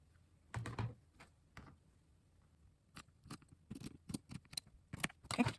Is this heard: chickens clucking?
no